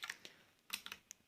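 Individual keys tapped on a backlit computer keyboard that lights only the pressed key, giving a sparse, irregular run of quiet close clicks with no talking.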